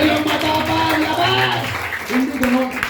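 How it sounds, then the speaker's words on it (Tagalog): A church congregation applauding, a brief burst of crowd clapping mixed with a loud voice speaking over it. "Gusto ko marinig yung palakpak ng mga taong matapang."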